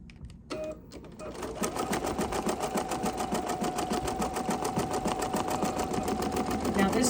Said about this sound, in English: I'm going to hold on to this while it does the basting.